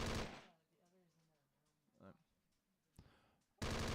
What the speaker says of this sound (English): We have this BTR-60 shooting at it